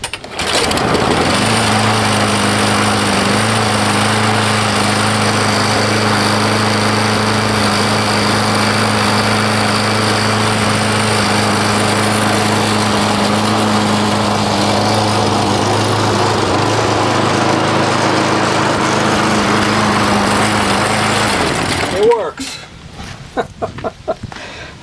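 A Craftsman Professional 21-inch lawn mower engine fires up and runs at a steady, loud, close drone for about twenty seconds, then cuts off abruptly into quieter handling noises.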